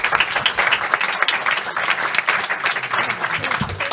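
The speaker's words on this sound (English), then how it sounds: "please give an applause for our panelists today" Audience applause for the panelists at a 2019 conference session on the implications of artificial intelligence, a dense, steady clapping from a sizable crowd lasting throughout, loud and close with no talk over it.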